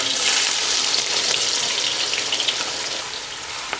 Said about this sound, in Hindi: आयल गर्म हो गया जी। प्याज जा रहे हैं इसके अंदर।